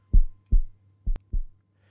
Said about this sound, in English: He is listening to his friend's heartbeat.